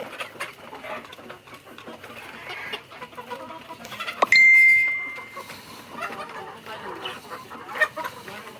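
Chickens in a farm cage cluck and murmur close by in a steady, irregular chatter, with one sharp louder squawk in the middle that trails off.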